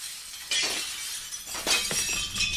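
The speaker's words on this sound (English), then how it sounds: "Nobody in the house hear all that glass?" Glass shatters in a horror video game: several sharp crashing bursts with tinkling debris spill over about two and a half seconds, loud and close, with no talk over them.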